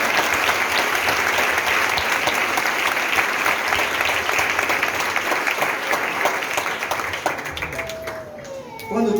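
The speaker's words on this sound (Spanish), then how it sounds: "Dale un aplauso más fuerte al Señor" A church congregation claps loudly for the Lord at an anniversary service, a long, dense burst of applause that holds steady, thins near the end and gives way to a voice.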